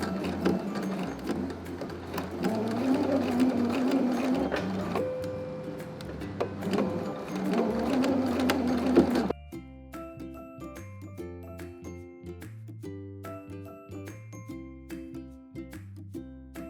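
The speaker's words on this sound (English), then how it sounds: "This is just a regular straight stitch. So just carefully work your way all the way down the side of the dress" A sewing machine runs a straight stitch down the side seam of a beaded, sequined dress, a steady whirring hum for about nine seconds before it stops and quieter tapping with a plucked melody follows.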